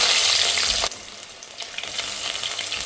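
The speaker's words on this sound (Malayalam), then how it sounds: "ഇനി ഒരു ചട്ടിയിൽ എണ്ണ ചൂടായി കഴിയുമ്പോൾ അതിലേക്ക് കടുകും ഉലുവയും പൊട്ടിച്ചെടുക്കാം" Mustard and fenugreek seeds spluttering in hot oil in a pan, a bright crackling sizzle that drops to a softer, steady frying hiss after the first second.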